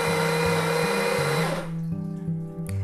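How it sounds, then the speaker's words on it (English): A loud electric coffee grinder runs on coffee beans beside a Gaggia Classic Pro espresso machine, a steady high whine that drops to a lower hum as the grinding thins out near the end. "My new grinder is very loud"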